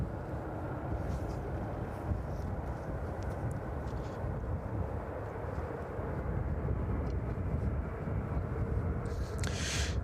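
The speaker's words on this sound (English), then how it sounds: "Triple 7 just starting up its engines in the background there." A Boeing 777 starts its engines at East Midlands Airport in the evening, heard as a steady broadband jet roar that holds at moderate level with no break across the whole stretch.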